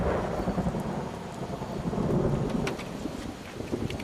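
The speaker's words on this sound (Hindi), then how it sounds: "ये देखो अब बारिश शुरू हो गई है" Heavy rain pours down as a thunderstorm begins after a hot day in wild mountains, a dense continuous hiss of rainfall with low rumbling beneath, steady and close.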